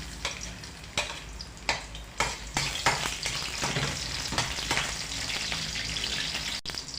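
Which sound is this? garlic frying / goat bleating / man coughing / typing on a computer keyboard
garlic frying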